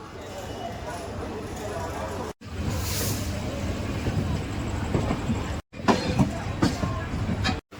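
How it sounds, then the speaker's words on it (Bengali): Kandari Express train pulling out of Howrah station bound for Digha, a steady rumbling roar from inside the coach with clattering and squeals, broken by two brief cuts, with a voice talking over it. "আর আমাদের ট্রেন ছাড়লো হাওড়া স্টেশন থেকে দীঘার উদ্দেশ্যে।"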